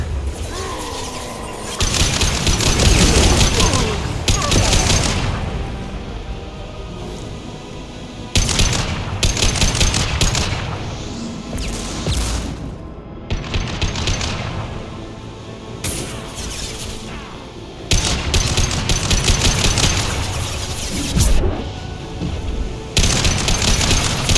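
Gunfire in Mass Effect 2 Legendary Edition during a combat fight, loud bursts of automatic weapon fire and booming impacts in dense stretches broken by short lulls, near and continuous.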